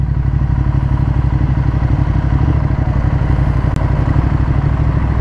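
A 2015 Ducati Monster 1200S with Öhlins suspension, its engine running with a loud, steady, throbbing pulse heard up close during a ride, with no talking.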